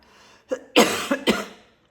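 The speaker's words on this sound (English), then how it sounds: "Excuse my coughing." A woman coughs several times in quick, harsh bursts at close range, with a throat-clearing quality and brief pauses between them.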